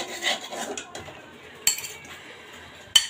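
Fried bitter gourd being lifted out of a pan: soft metallic scraping and clinks of a utensil against the pan, with two sharper clanks standing out, close and fairly quiet.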